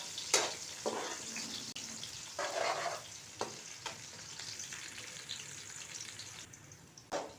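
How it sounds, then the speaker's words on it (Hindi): Finely chopped onion fries in hot ghee, a close, steady sizzle broken by bursts of stirring and scraping against the pan, with no voices. "प्याज हमारे फ्राई हो रहे हैं।"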